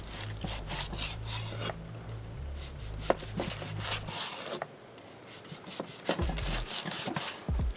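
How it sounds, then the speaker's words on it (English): A knife saws back and forth through a salt-and-pepper grilled steak cooked from frozen, rare inside with a crust, giving close rasping strokes that pause midway and then resume. "Now it's time to cut into the one that's previously frozen."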